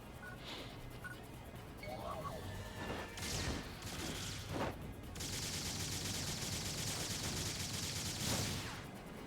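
Rifle and pistol fire in Phantasy Star Online 2: New Genesis: sharp shots and impact crashes at uneven intervals, then a long bright sustained effect with more hits, all under steady game ambience.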